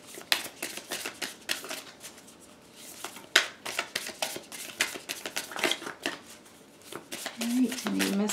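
Close, papery riffling and flicking of tarot cards being shuffled by hand, in quick repeated bursts with brief pauses between.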